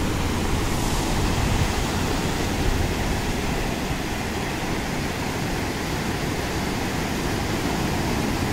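Ocean surf rolls onto a warm beach at Inskip near Rainbow Beach, a steady dense wash of breaking waves with no distinct individual crashes, loud and continuous throughout.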